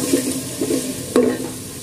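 Ginger, garlic and onion paste frying in a pan for chickpea dal, a close, fairly loud sizzle with a few soft stirring scrapes and one sharper knock.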